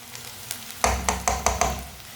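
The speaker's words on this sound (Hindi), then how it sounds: "प्याज को हल्का सा ब्राउन कर लिया है मैंने" Onions browning in a frying pan, sizzling steadily while a utensil stirs them in a series of close, rhythmic scraping knocks, about five strokes in quick succession.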